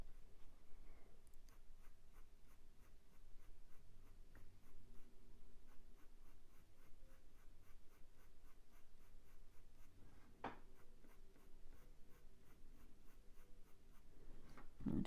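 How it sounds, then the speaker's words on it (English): A pencil scratches on paper while drawing a ginger tom cat, with quiet, close, rhythmic strokes that run continuously and have occasional sharper scrapes and no talking. "I'm always turning my pencil just to get as much use out of them"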